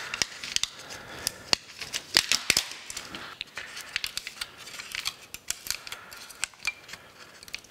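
Thin stainless steel foil wrapped around a metal part is unwrapped by hand, giving a close series of sharp crinkles, crackles and small snaps at an irregular pace, with no talking.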